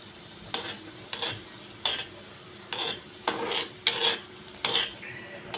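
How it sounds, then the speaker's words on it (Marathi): Bread slices for shahi tukda fry in ghee in a pan under a faint, steady sizzle, broken by about eight sharp spatula scrapes and turns at uneven intervals, close and fairly quiet, with no talking. "दोन्ही साईडने आपण हे चांगलं ब्राऊन होईपर्यंत फ्राय करून घेऊया"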